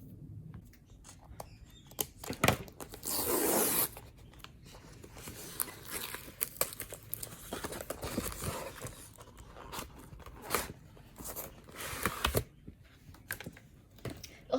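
A craft supply package from a stamp and die summer release is torn and cut open nearby, with crinkling plastic, ripping and snipping sounds, a loud tearing burst early, then scattered rustles and sharp clicks throughout, no talking.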